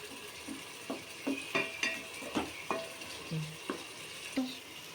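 Tomato fish curry cooks in oil in a pan while a spoon stirs it slowly, each scrape and clink of utensil against the pan landing every half second or so over a soft, continuous sizzle.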